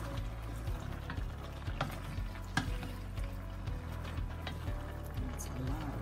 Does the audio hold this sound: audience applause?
no